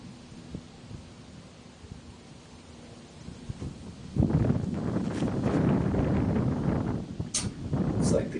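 A wind gust blows across an outdoor disc golf course during a women's pro tournament round, rising into loud rushing buffeting on the microphone partway through, with rustle and faint sounds mixed in.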